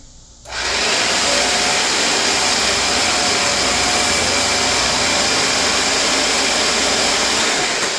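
A bandsaw starts up and runs steadily through a cut in metal stock for a DIY fluid bed, a loud continuous whirring drone that stays even to the end.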